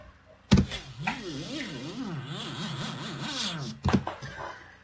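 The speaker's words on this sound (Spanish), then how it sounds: "Así es como suena con este efecto de velocidad." A sound processed with a varying speed effect, its pitch sliding up and down in a repeating zigzag between two sharp thumps at the start and end.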